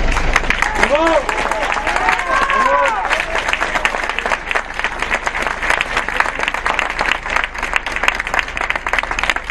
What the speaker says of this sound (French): Applaudissez-les, ils font un travail exemplaire.